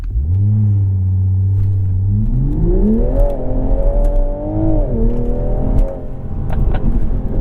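A 2021 Toyota Supra 3.0 launches hard, its engine climbing steadily in pitch through the gears with loud, close revving and a brief dip at each shift, no talking.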